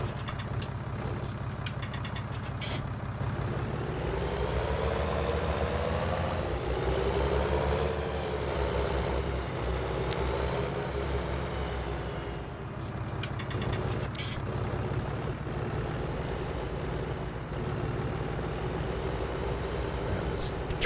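A Farming Simulator 19 tractor pulling a large trailer runs its engine with a steady mid-pitched drone, rising slightly at times, and someone talks over it now and then.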